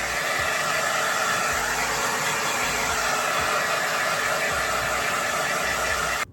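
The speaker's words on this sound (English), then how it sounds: "I'm gonna blow dry this and then" A hair dryer blows freshly dyed blue and purple hair, giving a loud, steady, close roar that runs without a break for the whole stretch and cuts off abruptly at the very end.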